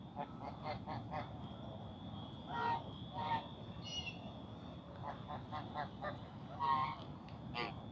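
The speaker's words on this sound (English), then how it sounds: "So these geese are huge." Large geese honk repeatedly, some calls close and others scattered and fainter, over a low, rumbling background with no speech.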